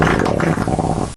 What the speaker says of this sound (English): This is how the farting sound effect from Yakoshi sounds like.